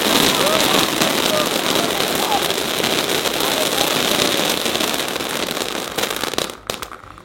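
New Diwali Sivakasi crackers burst in a dense, continuous crackling shower that stays loud and close for several seconds, then thins into a few scattered pops before falling quiet.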